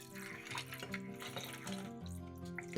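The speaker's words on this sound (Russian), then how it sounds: "Закаточные крышки кладем в сотейник и заливаем водой." Water runs steadily from a tap into a metal saucepan holding canning lids, a close, continuous splashing stream with a faint ringing resonance underneath.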